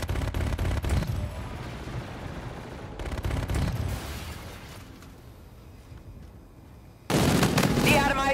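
Call of Duty gunfire and explosive impacts in a multiplayer match, with dense rattling shots and blasts that rise and fall, a quieter stretch in the middle, then a sudden loud burst near the end.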